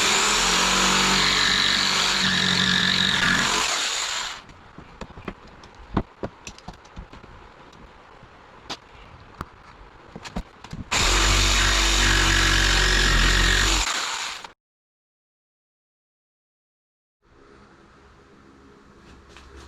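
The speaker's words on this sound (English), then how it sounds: "with my jigsaw." A power saw, a jigsaw cutting wood, runs loudly in two bursts of about four seconds each, separated by quieter clicks and handling noise, then a short silence and faint workshop sounds.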